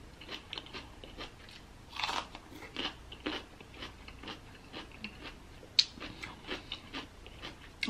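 Raw orange bell pepper being bitten and chewed up close, with repeated wet crunches and crisp bites in an uneven rhythm, loud and without talk.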